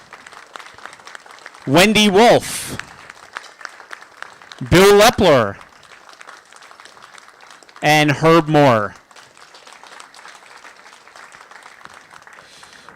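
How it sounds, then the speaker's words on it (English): At an annual synagogue meeting, an audience claps softly and continuously for departing board members. A speaker reads names over the clapping in three short bursts. "if we can have a round of applause for Leora"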